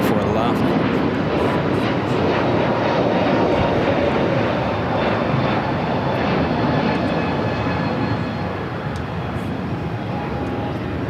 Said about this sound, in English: Let's go to the Emirates A380 Super,